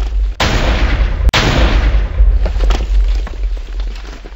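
A heavy blast in the video game Maze Runner hits, then a second sharp boom follows a second later, with rumbling debris and crackling aftermath fading out.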